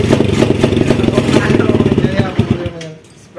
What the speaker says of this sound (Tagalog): Putol po, pagka ganito mga bro ang andar ng motor, ayan.